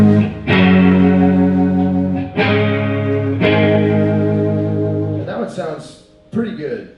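Electric guitar through a Leslie rotary speaker effect pedal, sustained chords with a swirling, chorus-like warble and some grit, held for long stretches before fading into short noisy strums.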